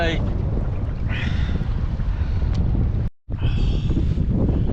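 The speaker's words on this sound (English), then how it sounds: "this easterly wind is fierce" A strong easterly wind buffets the microphone on a sea kayak while plaice fishing in the UK, a loud, constant low roar with water sloshing against the hull and a brief dropout near the end.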